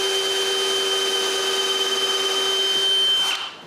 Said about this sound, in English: I also drill the holes on the top.